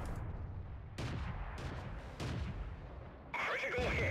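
Artillery in World of Tanks fires at a StuG with several sharp, booming shots spaced about a second apart, followed by a brighter metallic crash at the end, over faint background talk.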